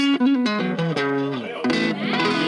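Electric guitar in a clean tone through a small amplifier, playing a short run of sustained notes and chords that ring out clearly and fairly loud, with brief gaps between phrases.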